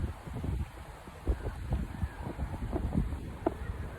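Wind blowing through an outdoor park on a cold day, a steady low rumble of gusts buffeting close to the microphone with some rustling, alone with no talking.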